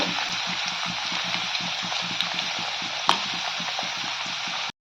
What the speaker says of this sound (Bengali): আর এখানে হচ্ছে আলু ভাজা